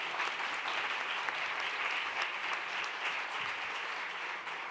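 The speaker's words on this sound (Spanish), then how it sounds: "Un aplauso para ellos." Dense, even applause from a conference audience at a rare-diseases research meeting carries steadily for nearly five seconds before easing off slightly at the end.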